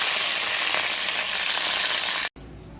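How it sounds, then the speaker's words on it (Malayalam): Mustard seeds crackle and splutter in hot oil while sardine pickle is being prepared, a loud, dense sizzle that continues steadily and then cuts off abruptly. "കടുകിട്ട് കൊടുത്തു, പൊട്ടട്ടെ."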